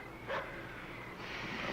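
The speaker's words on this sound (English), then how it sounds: "It's a dog barking at someone." A dog barks at someone on a farm, a couple of short, faint, distant yelps over a quiet outdoor background.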